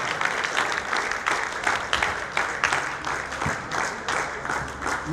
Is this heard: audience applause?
yes